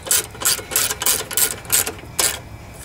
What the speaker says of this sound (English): the other 3/8. And I kind of go back and forth tightening them up